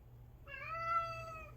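A single drawn-out cat meow, clear and fairly close, rising then holding before trailing off, over a low steady background hum.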